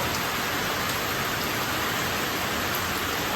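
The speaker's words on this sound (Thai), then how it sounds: "ฝนตกลงมาอีกแล้ว" Steady rain pours down nearby, a dense, even hiss of drops hitting surfaces without any pause. No voices are heard.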